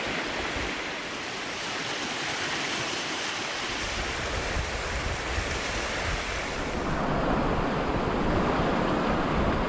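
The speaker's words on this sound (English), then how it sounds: "It's all a rapid. A ripping fast swift at the least." Fast river rapids in the Yukon wilderness rush in a continuous, dense roar of churning water, close and loud, swelling fuller toward the end with some wind buffeting the microphone.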